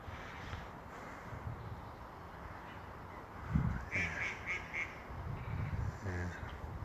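Coots calling on Westport Lake, a few short honking notes in a quick row, fairly distant and soft over steady outdoor wind and ambient noise.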